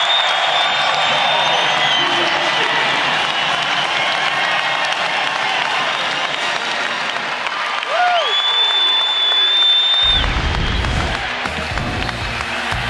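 A sellout arena crowd at a Nevada vs Utah State college basketball game in Reno cheers and applauds steadily, loud and continuous throughout, with scattered whoops rising above the dense roar and a sharp drop near the end.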